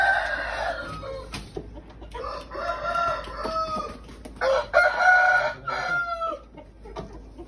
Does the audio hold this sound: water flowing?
no